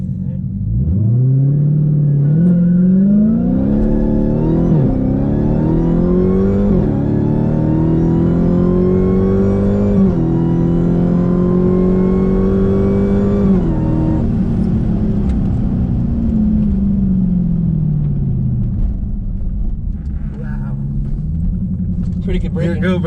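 A Dodge Hellcat launches and roars through first gear, its engine climbing in repeated rising sweeps under a loud, heavy rumble before easing off into a lower drone, with people talking inside the car.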